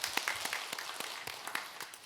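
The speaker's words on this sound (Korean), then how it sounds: "우리 최유순 장로님과 우리 봉사부원들 힘내라고 큰 박수를 격려해 드리면 좋겠어요." Church congregation applauding during a Sunday afternoon service, a scattered, fairly faint patter of hand claps with uneven rhythm, sounding from a moderate distance.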